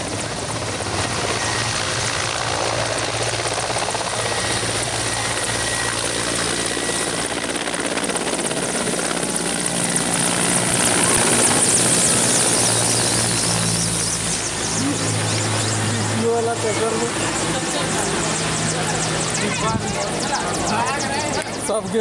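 Helicopter rotor and engine roar throughout, steady and loud, as the helicopter takes off at a prime minister's rally in Gumla, with a large crowd murmuring and voices chattering underneath.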